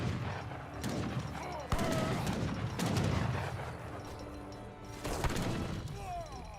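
A battle in Age of Empires 3 with cannons and gunfire, sounding as repeated heavy crashing booms and volleys at irregular intervals, fairly loud and close, set against busy game noise.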